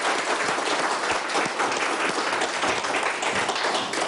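Studio audience at a Turkish television music program claps vigorously, a dense, even wash of many hands that stays loud and steady throughout.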